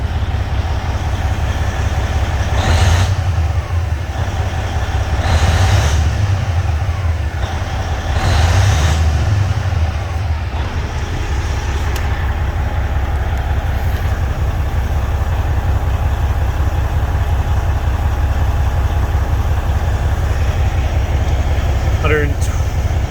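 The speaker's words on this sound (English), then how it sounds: "We'll rev her up here a little bit." A 2006 Freightliner Columbia's 14L Detroit 60 series turbo diesel revs in about three short surges over a loud, steady idling rumble, then settles back to a constant drone.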